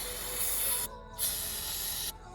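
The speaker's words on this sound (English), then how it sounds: "Might need a little bit more brake clean. Let me squirt it in the blow-off valve here." Two bursts of hissing brake cleaner sprayed into an engine's blow-off valve line, the first lasting about a second, a brief pause, then a longer steady hiss, close and fairly quiet.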